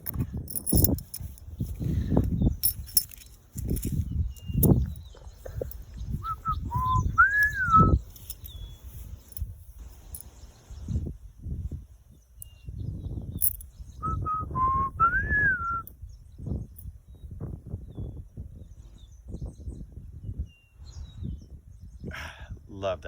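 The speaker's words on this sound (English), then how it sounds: "Love that sounding bird." A bird sings two short whistled phrases a few seconds apart, each a quick rising-and-falling chirp, faint against frequent conversation and clatter nearby.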